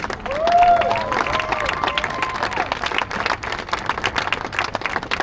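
Graduation audience at SkyView Academy claps continuously for a graduate, the applause steady and moderately loud, with crowd murmur and a voice over a sound system mixed in.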